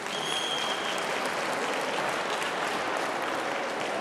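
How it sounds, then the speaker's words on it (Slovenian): Applause from married audience members at a sports awards gala marking a 25th anniversary: steady, even clapping from a crowd, loud and continuous throughout. "To je najslabši aplavz vseh časov"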